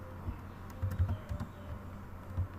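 Keys clatter on a computer keyboard as someone types code, quiet irregular clicks in short bursts against a low background hum.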